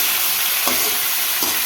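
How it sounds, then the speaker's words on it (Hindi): Carrots, potatoes and peas being stirred in a pan with steady sizzling, two short scrapes of the spoon standing out over the continuous hiss of frying. "इनको मिक्स करके कवर कर देंगे।"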